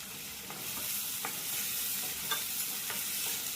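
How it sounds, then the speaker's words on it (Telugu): Onions and prawns sautéing in a pan for Andhra-style spicy prawn curry, giving a continuous dense hiss with occasional soft scrapes of a spoon stirring, close by and with no voices. "ఉల్లిపాయలు మెత్తగా మగ్గేదాకా మగ్గించుకుందాం."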